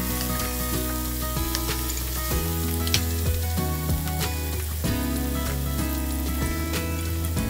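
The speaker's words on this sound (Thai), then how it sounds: "รอให้น้ำมันร้อนสักครู่แล้วใส่พริกกระเทียมโขลกลงไปประมาณ2ช้อนโต๊ะหรือตามชอบค่ะ" Pounded chili and garlic sizzle steadily in hot oil for a Thai basil stir-fry, with a close, continuous crackling hiss and occasional sharper pops, no voices.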